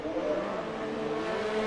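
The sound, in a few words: F1 2019 race car engine on flying lap, video game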